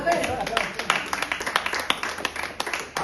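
Church congregation at a revival service clapping in quick, uneven bursts of applause, fairly close and steady throughout, mixed with vocal responses and talk.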